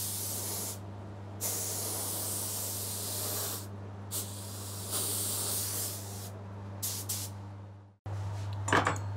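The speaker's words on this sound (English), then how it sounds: "that's generally how I would spray some clear coat" A spray gun lays clear coat lacquer onto a guitar body, a steady broad hiss running in several bursts with short pauses between passes, close and loud, then a brief break and a final short spurt.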